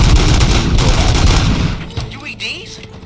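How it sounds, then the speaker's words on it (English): A rapid, dense burst of gunfire in the video game RoboCop: Rogue City rattles for about a second and a half, then gives way to quieter game sounds and a few scattered noises. "Gunshots? What's going on?"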